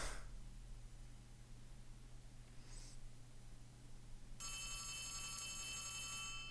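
A telephone rings inside the video game Poppy Playtime Chapter 3, starting as a bright, steady electronic trill partway through over a low ambient hum, and holding on loudly to the end.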